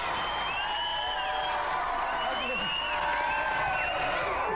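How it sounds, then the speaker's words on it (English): Studio audience cheering and whooping for the GamesMaster game show, a dense continuous roar of crowd voices with scattered shouts. "Yay, cheer for GamesMaster!"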